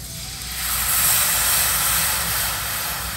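Coconut milk poured into a hot pan for coconut milk rasum sends up a broad, steady sizzling hiss that swells and then eases slightly, close and alone.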